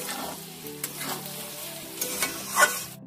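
Cooked rice stir-fried with mixed vegetables in a pan, for Bengali-style vegetable fried rice, makes a steady close sizzle with scraping spatula strokes and a few sharper clacks, ending abruptly.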